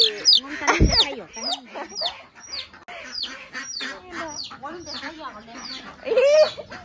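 Chickens cluck in a Mising village yard, dense overlapping squawks and clucks close by with a louder burst near the middle and another near the end, while a person talks over them.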